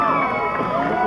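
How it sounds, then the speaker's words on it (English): A graduation crowd cheers for a graduate, with a dense, loud wash of voices and whoops heard from within the audience over a short burst. "He gets a big cheer right Cordell Robert Holler"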